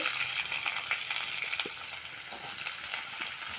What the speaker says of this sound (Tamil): கருவேப்பிலை, வெங்காயத்தை ரெண்டையும் ஒட்டுக்கா போட்டு வதக்கிக்கலாம்